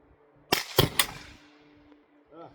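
A black powder handload fires, and the bullet strikes a chronograph, giving a sharp cracking gunshot with quick clattering impacts that fade into a short ringing tail.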